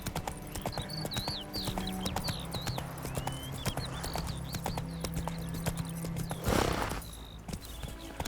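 Roach the horse gallops in The Witcher 3, steady rhythmic hoofbeats clopping close by beneath an ambient game soundscape with bird chirps, a short whoosh of a menu or effect near the end.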